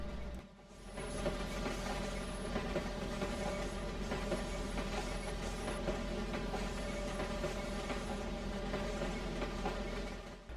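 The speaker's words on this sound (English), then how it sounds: "Car after car, the wheels roll by." A heavy coal train rolls past in the Trainz railroad simulator, car after car in a steady, loud, continuous rumble with rhythmic wheel clicks over rail joints and occasional faint squeals, no voices present.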